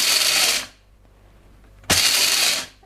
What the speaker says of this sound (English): so this grinder, all you have to do is to press here. I am not going to grind it too long.